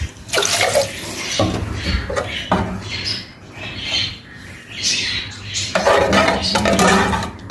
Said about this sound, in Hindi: जब ये अच्छे से फ्राई हो जाए, आप इसमें पानी ऐड कर देंगे